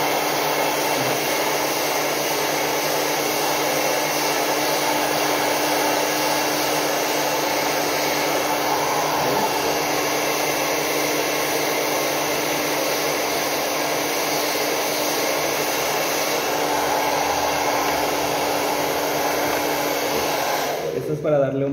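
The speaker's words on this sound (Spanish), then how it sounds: "Vamos a agarrar nuestra secadora y nuestro cepillo." A hair dryer runs steadily and loudly for about twenty seconds while hair is blow-dried with a brush, a constant airy whoosh with a fixed motor hum that cuts off at the very end.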